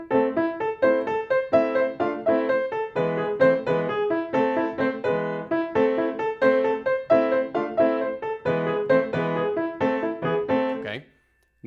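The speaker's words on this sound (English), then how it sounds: "I'm actually going to play it like I commonly see it, which is where the staccatos aren't particularly short" Solo piano plays the piece Wild Rider with fairly long, connected staccato notes, a brisk steady run of chords for about eleven seconds before the final note cuts off.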